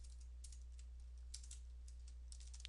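A computer keyboard being typed on in quick, light bursts of clicks over a steady low hum, with no talking.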